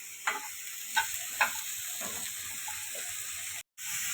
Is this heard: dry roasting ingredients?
yes